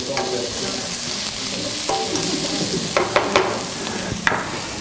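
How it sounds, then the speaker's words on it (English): Onions sautéing in a pan, a loud, steady close sizzle with occasional spatula scrapes and knocks over a few seconds, no voices. "we're just going to saute these until they're soft"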